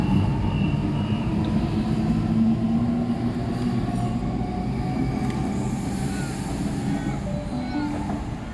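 Sydney electric passenger train arriving at Bankstown station, a steady rumbling roll with faint wheel squeal along the platform; a person talks quietly over the train noise.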